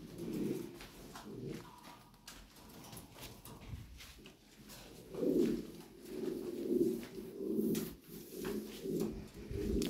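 Lahore pigeons coo in soft low rolling bursts, repeating several times in the latter half, close by amid faint background noise and occasional light knocks.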